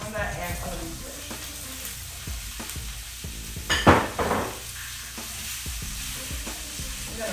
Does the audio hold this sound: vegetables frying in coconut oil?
yes